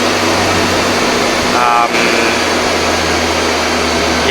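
A rebuilt Mitsubishi Airtrek turbo engine holds a mid-throttle run on a dynamometer, a loud, steady mechanical drone with constant low hum tones and a brief higher tone partway through.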